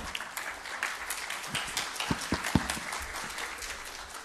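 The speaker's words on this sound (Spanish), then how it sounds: "un aplauso para Leonardo y para Andrés, por favor" Applause from a seminar audience at a FHIR Connectathon event, fairly quiet and diffuse, with a few sharper, nearer claps standing out from the steady patter.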